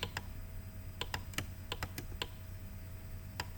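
Typing on a computer keyboard during a Java programming lesson: a dozen sharp, close key clicks come in irregular bursts over a low background hum, with no talk.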